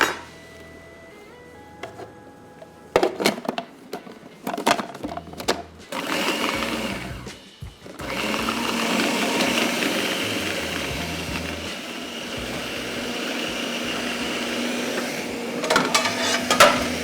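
An electric food chopper chops and mixes greens for a shrimp, amaranth and green chili curry. A few short, irregular bursts give way to a steady, loud motor whir that runs for the second half.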